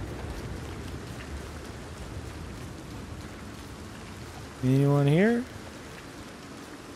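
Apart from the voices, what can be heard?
rain falling in video game Red Dead Redemption 2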